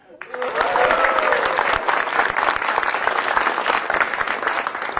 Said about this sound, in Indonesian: Tepuk tangan buat Wali Aco